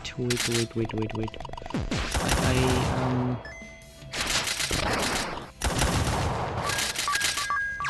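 Rapid bursts of gunfire and electronic weapon effects from the video game Soul Knight, loud and continuous in dense volleys with brief pauses and chiming tones, under a player talking.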